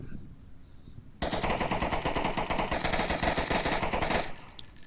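Sustained automatic gunfire as a weapon empties its full magazine in the VR shooter Onward, a loud rapid burst running about three seconds after a quiet start, then stopping abruptly.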